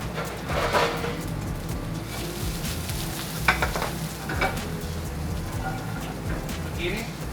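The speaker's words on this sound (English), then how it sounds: "The reason why I'm cooking everything separate is because every vegetable I got a different time of cooking." Squash and zucchini sizzle in a pan, a soft continuous frying hiss broken by occasional stirring scrapes, close by and fairly quiet.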